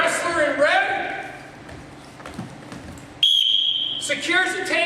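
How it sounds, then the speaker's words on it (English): A referee's whistle sounds at a wrestling match, a single loud, sustained shrill blast cutting in sharply, with talking both before and after it. "I blow the whistle."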